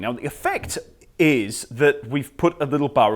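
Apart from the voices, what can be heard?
No everyday noise stands out behind the speech.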